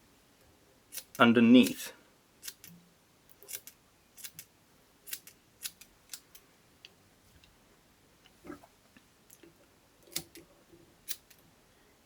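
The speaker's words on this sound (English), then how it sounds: "So I'm going to cut the back of it flat." Close, crisp snips of scissors trimming fly-tying fibers on a jig-hook fly, cutting the back flat, come in an irregular series of short clicks after a brief burst of voice.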